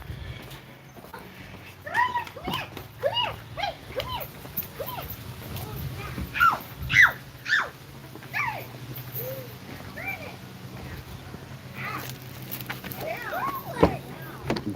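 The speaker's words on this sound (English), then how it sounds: "Dog's attacking my wife." A dog yips and whimpers in short, scattered bursts near a person preparing kayak fishing gear, fairly close and moderately loud, with a low hum underneath.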